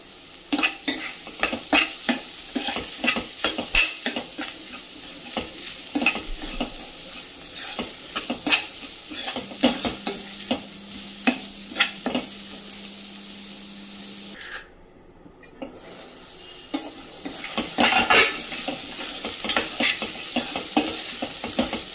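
Beetroot fry sizzles in a pan with garlic while a spoon stirs and scrapes it, giving a steady crackle broken by repeated scraping strokes, close and clear, with no talking.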